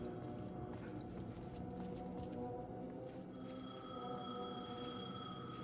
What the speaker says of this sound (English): Phone was ringing. Somehow I knew the call was for me. Where's the payphone?